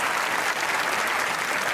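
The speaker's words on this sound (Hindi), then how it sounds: "ओ भाई ताली होनी चाहिए।" Studio audience applause on a television talk show, a dense, steady burst of many hands clapping together, close and continuous for a couple of seconds.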